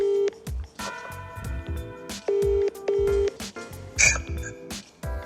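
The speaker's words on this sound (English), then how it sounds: "I'm gonna call Dave" A telephone dials a call: a rapid series of short keypad tones, several held notes, mixed with clicks and other short sounds, ending in a brighter burst.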